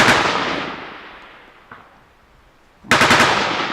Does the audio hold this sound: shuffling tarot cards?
no